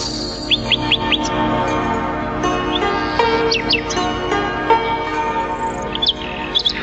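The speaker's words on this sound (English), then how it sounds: "So the nightingale started to sing straight away, and his song sounded so sweet" A nightingale sings a sweet, continuous run of bright chirps and quick trills, clear and steady throughout, like a storybook tape sound effect.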